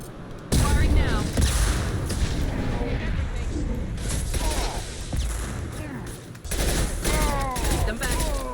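In the video game Mass Effect 2, heavy gunfire and booming weapon blasts continue almost without pause during a battle. Game voices shout over the sustained, loud barrage.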